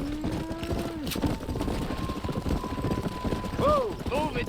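A herd of cattle lows in Red Dead Redemption, with a drawn-out moo at the start and a couple of shorter calls near the end, over rumbling hoof and wagon movement with voices.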